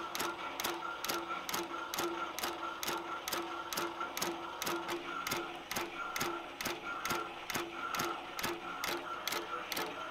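INNOVA grand format embroidery machine stitching out a design, a steady mechanical hum punctuated by evenly spaced sharp ticks of the needle, close and continuous with no talking.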